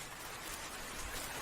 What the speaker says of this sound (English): The rain grew stronger.